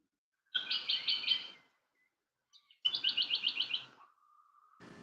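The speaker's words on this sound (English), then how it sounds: "I think the bird's telling you what time it is, really." Birds sing in a forest, two bursts of rapid repeated chirping notes, fairly close and clear, separated by a pause, followed by a faint steady whistle-like tone.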